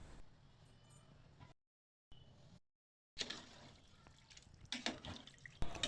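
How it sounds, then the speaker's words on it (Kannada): Water pours into a cooking pot for rice, about three glasses' worth for chicken biryani, a close splashing, gurgling stream that stops for brief gaps and then resumes more loudly. "ಅದಕ್ಕೋಸ್ಕರ 3 ಗ್ಲಾಸ್ ಆಗೋಷ್ಟು ನೀರನ್ನ ಹಾಕ್ತಾಯಿದ್ದೀನಿ."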